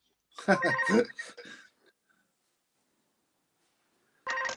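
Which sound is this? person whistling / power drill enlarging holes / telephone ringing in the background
telephone ringing in the background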